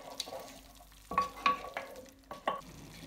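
Masala of turmeric, coriander and cumin cooking in a pan for chole, with several distinct scraping stirs of a spoon over a low background sizzle, close and fairly quiet.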